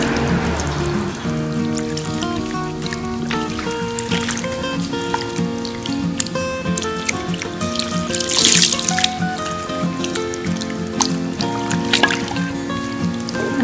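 Running tap water rinsing a hair mask out of a woman's hair at a wash basin, a steady close splashing flow that continues throughout under faint background music, with no one speaking.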